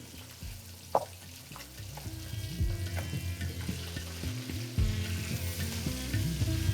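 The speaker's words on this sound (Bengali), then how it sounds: "মাছটা কিন্তু তেলের মধ্যে দেওয়ার পরে কোনোভাবেই তেলটা ছেটকাচ্ছে না।" Oil sizzles steadily around rohu fish frying in a pan, with a few sharp clicks and low bumps from handling; no one speaks.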